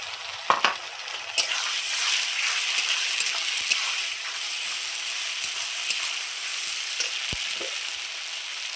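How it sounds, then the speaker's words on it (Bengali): A ground spice paste of ginger, cumin and dried chilli hits hot oil and fries with a loud, close, continuous sizzle, broken by a few sharp clinks and scrapes of stirring. "দিয়ে আবারও একটু খুব সুন্দর করে ভেজে নিচ্ছি। এইবার দিয়ে দেবো আমি বেটে রাখা মশলা।"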